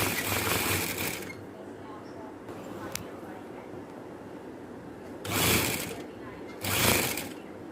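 Sewing machine stitching the sleeve of a suit, running in short loud bursts of rapid whirring with quieter pauses between them, close by.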